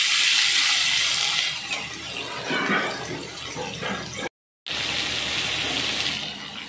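Boiled chow mein noodles drained out of their cooking water for a chicken egg chow mein, a steady close gush of pouring water that runs for several seconds, breaks off briefly, then resumes.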